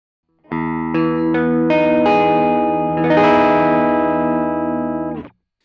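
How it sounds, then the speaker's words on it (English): An electric guitar through an overdrive pedal plays a few sustained chords, each ringing with gritty, slightly compressed tone, then cuts off abruptly. "Let's now engage the overdrive pedal, which is going to add some character to it"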